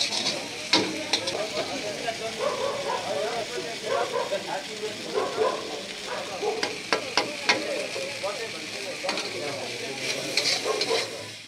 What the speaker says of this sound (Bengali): দেখুন এই দিদি বানাচ্ছে চাউমিনটা